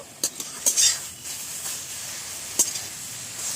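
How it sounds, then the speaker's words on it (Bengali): Spatula stirring shrimp and ghatkol leaves in a pan while the water cooks off, with a few sharp metal scrapes and clinks over a steady soft sizzle, close by. "একটু নাড়াচাড়া করে নিই আরও একটু কমিয়ে নেবে"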